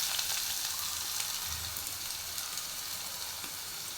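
Curry leaves and onion sizzling in hot oil in a pan, a steady, fairly quiet hiss running evenly throughout with no voices.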